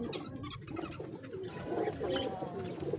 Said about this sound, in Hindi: आपको रामपुरी कबूतर दिखाऊँगा।